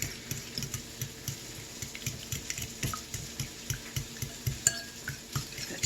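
Sweet Vidalia onions being stirred in a pan, with a steady rhythmic series of soft scraping taps from the spoon against the pan over a low background hum.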